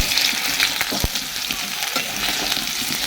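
Potatoes for aloo dum fry in a pan with a loud, constant close sizzle and a few scattered clinks and stirring scrapes.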